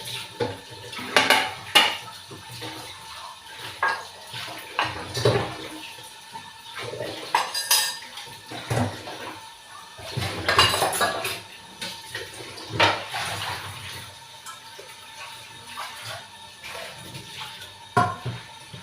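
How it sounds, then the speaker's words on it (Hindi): Dishes, pots and pans are washed by hand, with irregular clinks and clatters of metal and cutlery and bursts of splashing water over about nineteen seconds, close by and with no talking. "बर्तन धो लिए"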